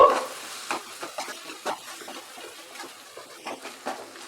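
Chopped tomato is stirred into frying masala for a Bengali mutton curry with potatoes. Soft sizzling sits under a series of irregular scraping stirs in the pan, fairly quiet and close.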